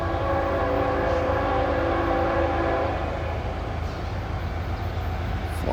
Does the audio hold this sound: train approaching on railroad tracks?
yes